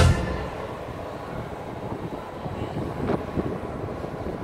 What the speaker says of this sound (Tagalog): ang sobrang lakas ng hangin